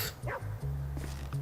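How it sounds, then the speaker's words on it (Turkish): A dog barks a few times in short, clipped yaps over a steady low hum, slightly muffled and artificial-sounding, from the video game GTA V. "Köpek mi var?"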